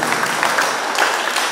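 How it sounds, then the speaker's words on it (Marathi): Brief burst of audience applause at a commemorative gathering at a school, dense clapping at moderate loudness for just over a second. "त्यांच्या कार्याला पहिल्यांदा आपण टाळ्या वाजून खरं त्यांचं कौतुक करू."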